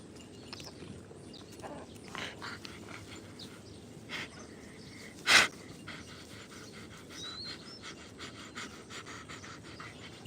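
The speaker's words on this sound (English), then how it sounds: "That is Maisie panting, yes." A dog named Maisie pants steadily and close by on a farm where goats and pigs are kept, with rapid breathing running through the whole stretch and one brief sharp sound near the middle.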